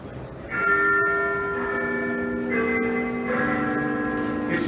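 Big Ben's bell in London bonging, a few resonant, ringing strikes with long sustained tones over a steady background hum, heard at moderate loudness from a distance.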